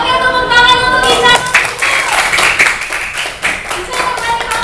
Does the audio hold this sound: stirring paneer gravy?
no